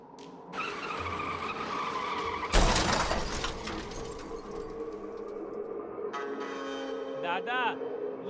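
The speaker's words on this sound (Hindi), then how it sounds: "ये आदमी बाइक सहित केमिकल में गिर गया है" An animated motorbike skids with a screech of tyres, then a loud crashing impact bursts in, followed by sustained engine and tyre noise and a wavering squeal near the end.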